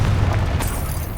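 A Confringo fire spell explodes in Hogwarts Legacy, a loud low boom that rumbles on and swells again partway through, heavy and filling the whole moment.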